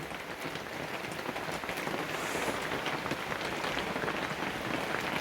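Rain falls outside in a steady, even hiss of drops pattering on surfaces, continuous and moderately soft throughout with no voices.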